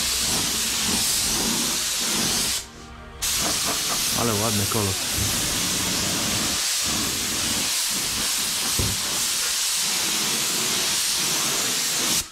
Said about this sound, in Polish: wymieszam farbę, wleję do pistoletu i pomaluję